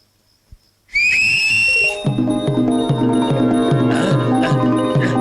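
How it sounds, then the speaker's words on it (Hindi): A sharp, high whistle rings out loudly to call a horse, then dramatic film music with a pulsing beat swells in underneath and carries on. "सीटी बजाने से वो नहीं आएगा।"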